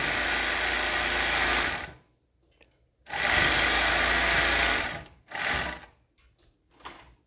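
A semi-industrial overlock serger stitching a seam, running loud and close in two steady buzzing bursts separated by a brief pause, followed by softer intermittent whirring, with no talk over it.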